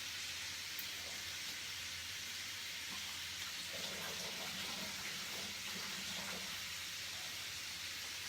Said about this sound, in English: Just give them a quick wash off